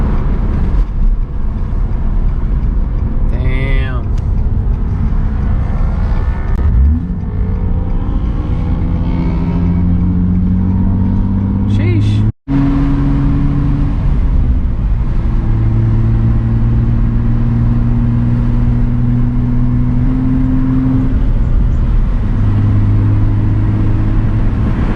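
A supercharged Nissan 350Z engine roars loud and close, rising in pitch through several revving pulls with a brief cut partway through.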